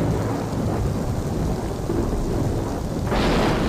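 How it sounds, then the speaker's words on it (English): Steady, loud rain pours in the video game Shenmue, with rolling thunder rumbling underneath throughout and a brighter swell of downpour near the end; no one speaks. "You hear the rain pitter-pattering and everything?"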